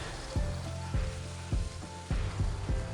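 Lamb coated in mojito sauce sizzling on a barbecue, with a steady close hiss and crackle broken by a few soft thuds as the meat is moved, and no talking.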